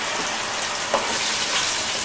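Sofrito frying in a couple of spoonfuls of oil in a pan, giving a steady, dense, close sizzle with a few soft stirring touches.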